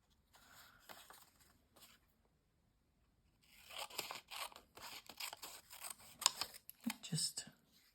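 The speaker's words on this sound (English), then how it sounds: "I'm just actually going to cut some strips." Scissors cutting strips of paper for a mixed media altered playing card: quiet crisp snips, a few sparse ones first, then a denser run of cutting after a short pause, faint and close.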